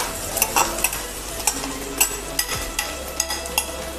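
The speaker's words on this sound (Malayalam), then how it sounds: "ഇനി നമുക്കൊന്ന് നല്ലതായിട്ടൊന്ന് ഇളക്കി കൊടുക്കാം" Egg roast being stirred in a frying pan for a quick egg breakfast, with a utensil scraping and tapping in irregular strokes over a steady close sizzle, and no talking.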